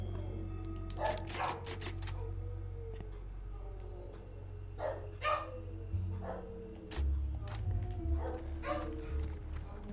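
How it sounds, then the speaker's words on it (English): Dogs barking in the video game Resident Evil 4 Remake, a few sharp barks spaced out over a low steady hum of game ambience, heard from some distance. "I hope you don't hear those dogs howling."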